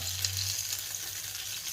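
Fish sizzles and fries steadily in a pan, an even close crackle of hot fat with no talk over it.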